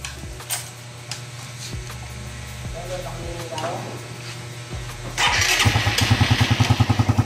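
Raider 150 motorcycle engine being started: repeated starter attempts with clicks and whirs, then it catches and runs with a rapid, pulsing idle that grows loud near the end, with talking over the early part.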